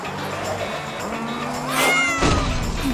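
A cartoon cat in Polly Pocket toy play lets out a couple of short rising meows over light background sounds, fairly close and clear, with the second cry louder.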